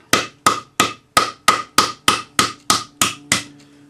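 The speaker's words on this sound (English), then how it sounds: "use your rawhide hammer and just start folding it" A rawhide hammer strikes a metal cuff being folded over, about eleven evenly spaced, solid blows at a steady rhythm, each ringing briefly before the next, close and loud with no talking.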